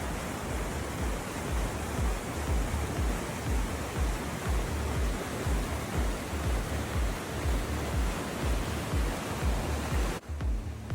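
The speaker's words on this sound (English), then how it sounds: "here at the upper falls." A waterfall on a rushing high-country creek above the South Yuba River, between French Lake and Faucherie, roars as a loud continuous broadband rush with no voices, cutting off abruptly just before the end.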